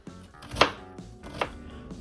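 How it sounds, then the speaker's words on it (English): Knife chopping half an onion on a board, a few firm, close cuts spaced irregularly against faint room background. "I'm gonna start by chopping half an onion"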